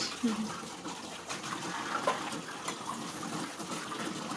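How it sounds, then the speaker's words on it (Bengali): Water runs steadily while a bowl is washed at a kitchen tap, a continuous splashing wash with brief clinks and a voice murmuring faintly beneath it. "দেখো আমি বাটিটা ধুয়ে নিচ্ছিলাম"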